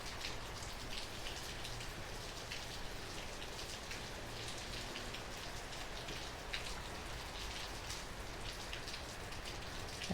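Heavy, gusty rain in Northern California pours in a dense, steady hiss of drops striking surfaces, with faint swells and scattered louder spatters and no voices.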